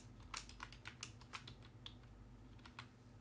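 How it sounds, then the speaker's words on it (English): Light, crisp clicks of a computer keyboard as a short phrase is typed into a Windows Command Prompt, a quick irregular run of keystrokes, close and quiet with no talk. "So I'll type in the tech talks"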